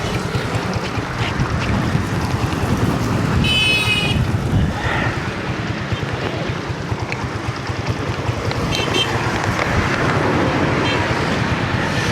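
Rain falling beside a roadside, a dense steady hiss with wind buffeting the microphone and low rumble, continuous and close, with a few faint higher chirps or squeaks briefly rising above it.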